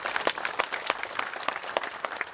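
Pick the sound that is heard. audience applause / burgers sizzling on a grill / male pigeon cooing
audience applause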